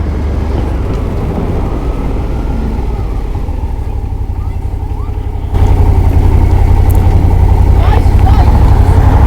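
A Suzuki SV650 motorcycle's exhaust pulls hard under acceleration, a loud, close engine roar that steps up sharply in volume partway through and holds there.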